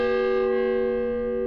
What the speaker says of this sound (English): we get a few people a day that come by and ring the bell